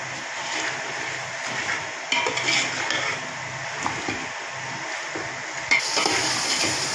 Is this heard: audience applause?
no